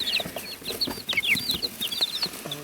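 Several chickens cluck and chatter in short, overlapping calls, fairly close and steady throughout with no talking.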